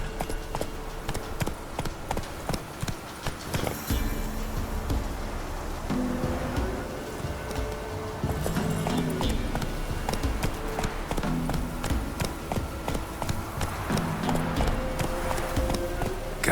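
The horse Roach gallops in The Witcher 3, a continuous fast clip-clop of hooves under busy game ambience, steady and fairly loud for the whole stretch.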